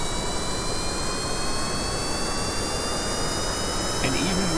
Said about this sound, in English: And then we're gonna throttle up the jet engine.